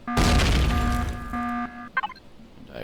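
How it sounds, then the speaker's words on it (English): Generators at an old point of interest exploding in the video game Empyrion: a loud, heavy boom with a broad rumbling burst and sustained ringing tones, then brief crackling pops as it fades. "That explosion you heard was the generators"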